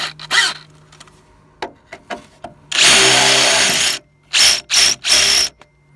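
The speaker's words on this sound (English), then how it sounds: "drill through the first layer of metal. I'm going to go over it with an 8mm bit." A power drill with an 8mm bit whirs in several short bursts, with a longer sustained run in the middle, biting into car body sheet metal up close.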